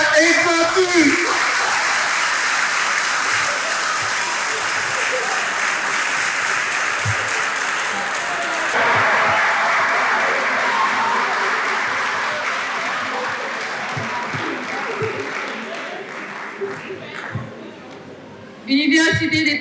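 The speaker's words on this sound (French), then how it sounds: "Mesdames et messieurs, je vous prie d'applaudir." Sustained audience applause at a university medical faculty's scientific-day closing ceremony in Haiti, a broad wash of many hands that swells, dips slightly midway and fades out near the end.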